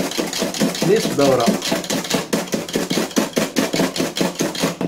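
An electric mixer whirs and beats cream for a biscuit roll in a rapid, pulsing rhythm, close and fairly loud, with a voice speaking briefly over it.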